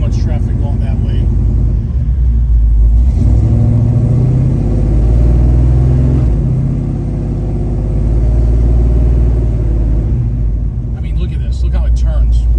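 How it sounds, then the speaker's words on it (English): A 1970 Chevrolet Chevelle's engine rumbles steadily as the car makes a U-turn in traffic, a loud low drone throughout with speech over it. "I'm just going to bust a U-turn here."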